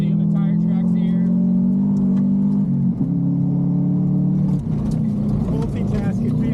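Rally car driving a gravel stage at Team O'Neil Rallyfest 2023, its engine droning loud and steady from inside the cabin with a few pitch shifts as it climbs, and talk over the top.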